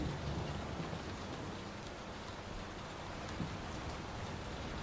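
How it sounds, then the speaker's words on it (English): Steady, dense rain from a storm in the video game Layers of Fear (2023) hisses on all sides, a constant wash of falling drops with no voices. "Will this storm ever run out of rain?"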